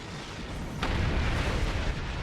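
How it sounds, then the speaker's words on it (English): Weapons fire from the Heralds striking a time portal in Star Trek Online lands as a sudden booming blast partway through, over a low rumbling background. "The Heralds are firing on the portal!"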